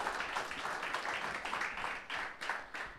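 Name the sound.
congregation applause in church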